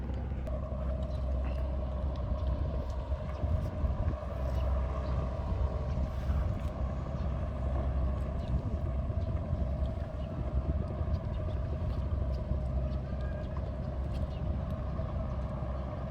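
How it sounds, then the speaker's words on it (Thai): On the Pattani River, a tugboat towing two large fishing boats toward the Gulf of Thailand drones with a continuous low engine rumble and water wash, steady and moderately near throughout. "เราพบเห็นเรือลากจูงกำลังลากจูงเรือประมงขนาดใหญ่สองลำ มุ่งหน้าสู่ทะเลอ่าวไทยครับ"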